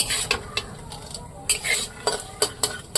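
Peanuts stir-fried in a pan, with a utensil scraping and clinking against the metal in quick, irregular strokes over a faint sizzle, close by and with no talking.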